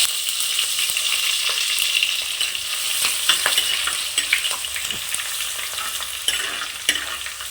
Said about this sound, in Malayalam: ഇനി കുറച്ച് വെളുത്തുള്ളി കൊടുക്കാം